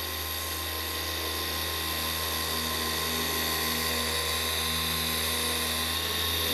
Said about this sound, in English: Machine's working perfectly. You see the marks going around quickly.